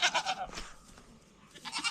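Goats bleating close by on a farm, with several short nasal bleats at the start and another bleat near the end, separated by a quieter gap.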